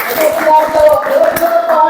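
Children and adults in a family-support group session clap together in a rhythmic patterned clap, quick hand strikes repeating over chanting voices and a child's speech throughout.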